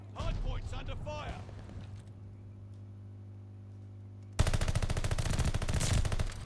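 Sustained machine gun spraying in a first-person shooter game during a hardpoint match, a loud rapid rattle of closely spaced shots bursting in after a quieter stretch that opens with a voice talking.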